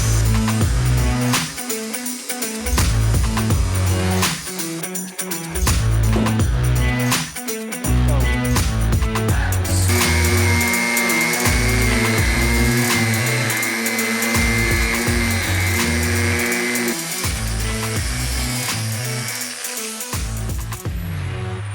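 A power tool cuts away a handle to free a bolt on a Volkswagen Beetle floor pan, a loud continuous whine with shifting pitch, close by, broken by short stops and restarts.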